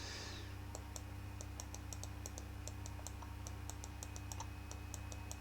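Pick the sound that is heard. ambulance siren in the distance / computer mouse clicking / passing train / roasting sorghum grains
computer mouse clicking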